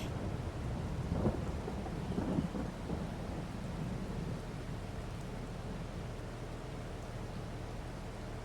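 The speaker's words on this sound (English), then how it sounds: "We are just waiting for it to stop raining." Rain falls steadily in Farming Simulator 22 as low thunder rumbles through it, the heaviest rolls coming early and the downpour hissing on evenly afterward.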